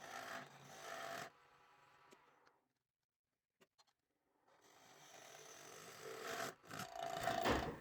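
A skew chisel cuts wood spinning on a lathe while a spatula is turned, making a raspy scraping hiss that fades into near silence, then builds back steadily louder and close up.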